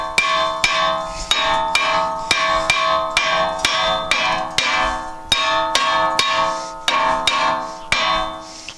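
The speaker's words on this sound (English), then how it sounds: "we're going to tap them a bunch of times with a hammer" Metal hammer blows striking rusted front brake rotors on a 2016–2021 Honda Civic, about a dozen loud, evenly spaced ringing clangs close by, each leaving a brief metallic ring, with no talking.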